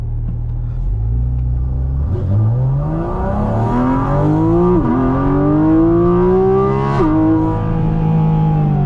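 A loud 2025 Porsche Cayman GT4 RS Weissach engine revs up through several gears, each pitch climb dropping abruptly at a shift, rumbling close and unbroken.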